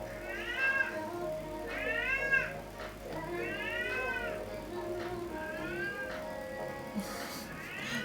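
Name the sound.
pet cat meowing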